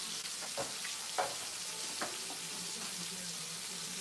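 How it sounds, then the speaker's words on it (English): Cube steak frying in a hot skillet gives off a steady, close sizzle and crackle, with a few sharp clinks of a utensil against the pan. "Let's turn over the cube steak, nice and brown, right?"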